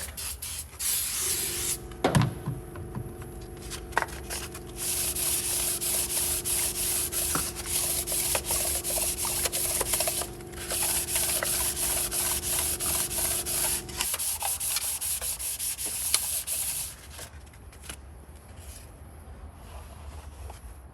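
WD-40 is sprayed and scrubbed across a Chevrolet Cruze cylinder head surface during head gasket work, a close, steady rasping rub with a sustained spray hiss, easing off near the end.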